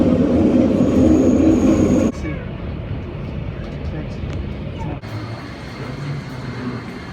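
A train ride toward Charles de Gaulle Airport in Paris: a steady low rumble and rattle of carriages with a thin high whine, briefly dropping quieter partway through before rising again, with someone talking over it.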